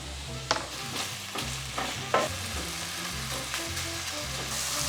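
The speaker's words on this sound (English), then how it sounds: "I'm adding in the cut chicken sausage, and I'm gonna let that saute for just a couple of minutes" Cut chicken sausage sizzles steadily in hot oil in a pan, with a few sharp clacks of a utensil stirring and scraping over the continuous frying hiss, no voices.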